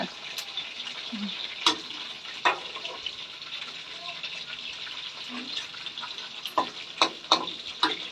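Battered, salted pork belly deep-fries in hot oil with a close, continuous sizzle, punctuated by sharp pops and spatters and occasional stirring sounds, while someone talks intermittently over it.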